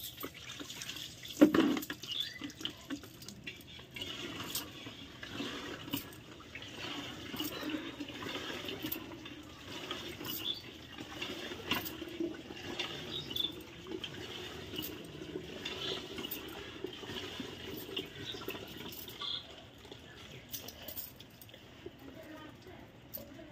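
Cold tap water runs and splashes during a bath, a soft continuous stream with drips and sloshing, fairly quiet, while a person talks over it.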